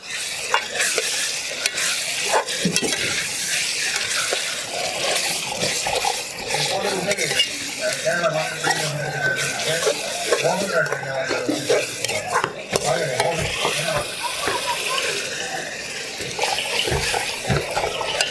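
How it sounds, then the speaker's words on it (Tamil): Onions sauté in a pan for a large wild mushroom gravy, giving a continuous loud sizzle with stirring clatter against the pan throughout, heard up close. "வெங்காயம் நல்லா வதங்கணும்."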